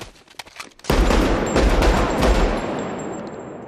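A burst of loud, rapid gunfire in a film scene erupts after a quiet moment, sustained shots blending into a dense roar before tapering off.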